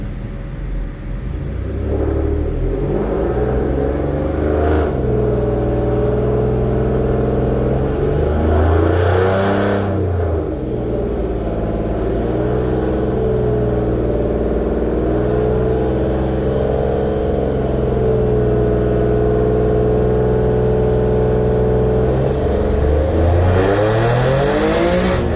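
A turbocharged 3.7L V6 Mustang on a dyno revs repeatedly, its engine pitch climbing and falling in several loud pulls and surges over a steady rumbling idle, close and without talking.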